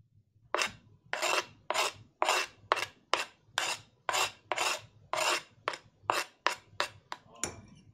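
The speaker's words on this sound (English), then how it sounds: "for the salmon, I'm going to cut up this dill" A knife chopping fresh dill on a cutting board, a series of about fifteen close, crisp rasping strokes in a steady rhythm, each a short scraping cut.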